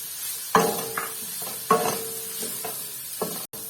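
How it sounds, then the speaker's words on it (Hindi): Meat being stirred in a pot for hot and sour soup, with a few sharp spoon-against-pot knocks roughly a second apart over a soft, steady sizzle. "थोड़ा सा यहाँ मैंने जो है गोश्त को चला लिया"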